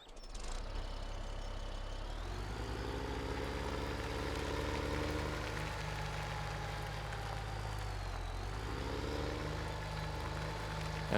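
A John Deere 60 tractor engine idles in Farming Simulator 17, a steady low rumble with a slight pitch dip partway through, close and continuous with no talk.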